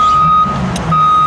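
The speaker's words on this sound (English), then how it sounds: "Hey, that's the loader." Steady, piercing reversing beep from a loader at a landscape supply yard, holding one pitch for most of the second, with a short gap midway, over a low idling diesel engine rumble.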